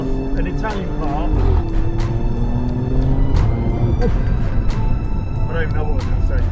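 A 1984 Alfa Romeo GTV or Stelvio Quadrifoglio engine runs with repeated sharp exhaust pops and crackles over a steady rumble, loud and close, with people talking throughout.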